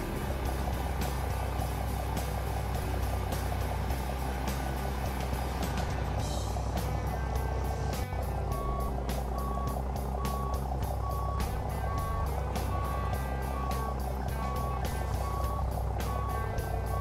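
A heavy truck in the Euro Truck Simulator 2 video game reverses toward a loading bay. Its diesel engine rumbles steadily throughout, and evenly spaced, loud reversing beeps start about halfway through and repeat to the end.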